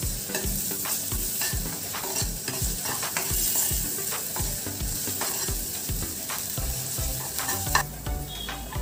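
Finely chopped garlic and ginger fry in a pan with a loud, constant sizzle while a spoon scrapes and stirs in quick, repeated strokes, close up with no talking.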